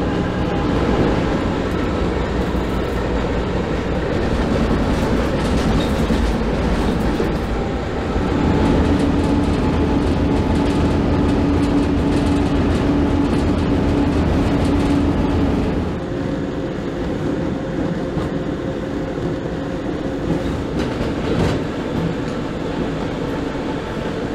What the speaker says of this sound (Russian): В вагоне грузового поезда.